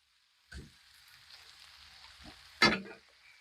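Peppers, onions and chicken sizzle steadily on a griddle plate, a constant hiss broken by two louder scrapes and clatters as the food is pushed and flipped.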